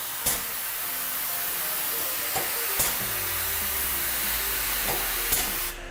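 A spray gun lays off-white lacquer onto a door in a steady, loud hiss that holds throughout, broken by a few brief sharp clicks and a low rumbling chug toward the end.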